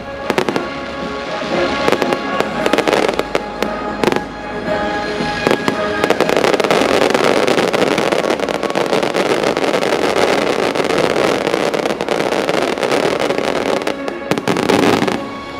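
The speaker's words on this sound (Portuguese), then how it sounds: "se transforma em um grande espetáculo de pirotecnia, com toneladas de fogos explodindo e iluminando toda a região" Fireworks exploding over a tower in Valencia at a big pyrotechnic show, a dense, continuous barrage of booms and crackling that builds into a sustained roar, loud and moderately distant with no talking.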